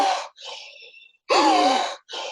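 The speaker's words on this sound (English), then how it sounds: "there's a bit of a gasp, like you're trying to make your mouth as big as possible" A sharp, wide-mouthed gasping inhale during a breathing exercise, taken twice up close and loud, with a softer breathy exhale between the two pulls.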